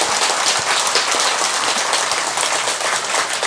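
An audience at a Buddhist dharma talk breaks into sustained, dense applause, many hands clapping steadily and loudly throughout with no talk over it.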